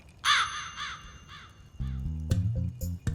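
A black crow caws several times as a comedic sound effect, loud harsh calls up front, followed by a clattering musical sting.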